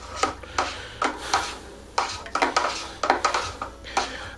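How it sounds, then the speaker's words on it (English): A spoon stirs wine kit juice vigorously in a bucket, making a steady series of rapid scraping, sloshing strokes, close by with no voices. "the next directions say to stir vigorously with the spoon for about 30 seconds"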